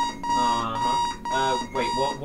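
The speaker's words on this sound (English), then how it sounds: "Shut up, alarm." An alarm clock rings in the bomb-defusal video game Keep Talking and Nobody Explodes, a loud steady electronic tone that persists throughout while players talk over it.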